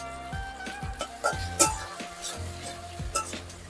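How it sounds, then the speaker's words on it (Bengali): A chilli chicken sauce of tomato ketchup, green chilli sauce and sugar is stirred in a pan. Irregular spoon scrapes and light metallic clinks sound close over a faint sizzle, with a sharper clink near the middle. "এবার সবকিছু ভালো করে মিক্স করে নেব।"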